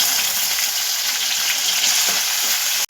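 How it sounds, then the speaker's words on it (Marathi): Tomatoes tipped into onions already fried most of the way give a loud, steady broadband sizzle that runs unbroken throughout and cuts off abruptly at the very end. "आता आपण त्यामध्ये टोमॅटो टाकून घेऊया"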